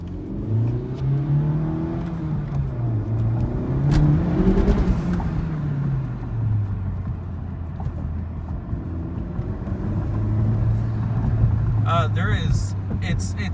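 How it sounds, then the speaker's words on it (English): A 2017-2018 Honda Civic Type R FK8 fitted with a K&N intake, drawing air with a throaty engine rumble that rises and falls through revs, close inside the car under someone talking. "You can hear it actually sucking in the air"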